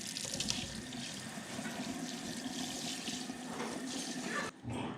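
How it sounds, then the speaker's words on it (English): A kitchen tap in a farmhouse sink runs steadily, a close, continuous hiss of flowing water that cuts off briefly near the end, with no talking. "We actually have water in the kitchen now and a sink."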